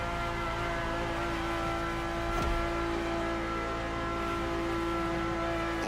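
A car engine in the racing game The Crew Motorfest, heard from inside the car, holds a steady, droning tone at a constant pitch with no talking.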